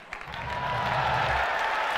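A crowd applauding the Apple iPhone unveiling, a soft, steady wash of distant clapping that swells slightly and holds for a couple of seconds.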